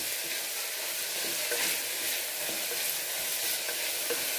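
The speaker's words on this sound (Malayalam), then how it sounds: "ഇഞ്ചി വെളുത്തുള്ളിയുടെ പേസ്റ്റ്, കറിവേപ്പില ഒന്ന് എണ്ണയിൽ കിടന്നിട്ട് ഒന്ന് മൂപ്പിച്ച് കൊടുക്കാം" Ginger garlic paste and curry leaves sizzle in hot oil for a vegetable kurma, a steady dense crackling hiss that carries on evenly throughout with no voices.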